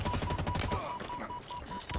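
Rapid, dense bursts of alien shotgun fire in the video game Halo Infinite, loud and close, with repeated blasts crowding together into a near-continuous volley.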